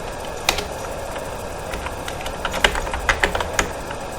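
Keys click on a computer keyboard in irregular bursts, sparse at first and then quicker, close and crisp with no talking.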